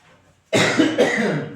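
A single hard cough bursts out after a brief quiet moment, followed by a second rough cough close to the listener, with no talking.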